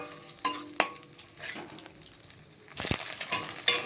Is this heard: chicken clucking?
no